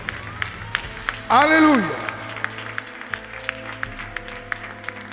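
Congregation at a Spanish-language church service for the Lord's Supper clapping in a steady, sparse beat, while a man's drawn-out sung exclamation rises over it briefly near the start.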